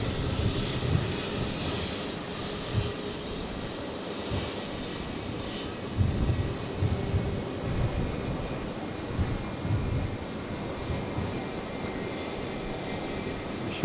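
QantasLink airliner touching down at Brisbane airport, a steady moderate jet engine rumble with faint wind and low thumps, no voices.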